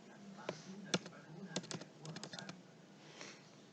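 Keystrokes on a computer keyboard deleting text, quiet close clicks in irregular bursts with a few sharper taps, no voices.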